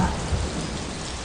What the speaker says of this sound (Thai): เสียงฟ้าร้องดังตึกก้อง ก่อนที่สายฝนจะเทลงมาอย่างหนัก